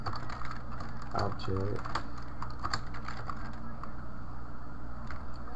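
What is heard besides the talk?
typing on a computer keyboard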